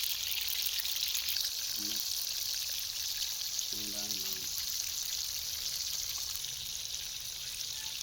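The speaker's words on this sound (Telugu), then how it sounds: "అలా వేడి నూనెలో చేపల ముక్క వేసినప్పుడు వచ్చే సౌండ్ ఎంతో వినసొంపుగా ఉంది" Pieces of pulasa sea fish fry in hot oil with an even, continuous hiss and crackle. The sound holds at a moderate level throughout, with a couple of faint low murmurs underneath.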